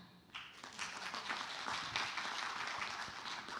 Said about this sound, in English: Please, a round of applause for Mina.